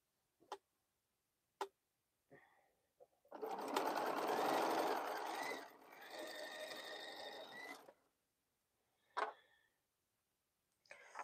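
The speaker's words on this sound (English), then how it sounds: "I'm stitching with the fabric, with the Crown Royal fabric up on top" Sewing machine stitching Crown Royal fabric for a quilt, a close, steady whirring run of several seconds that slows partway through, framed by a few sharp isolated clicks and taps.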